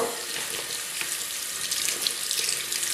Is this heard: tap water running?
yes